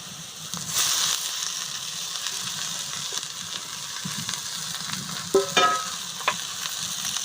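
Mixed leafy greens dropped onto hot spiced oil in a pan for a ghonto, with a continuous close sizzle, stirring scrapes and a few sharper crackles and clinks partway through.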